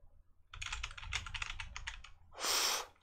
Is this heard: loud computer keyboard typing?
yes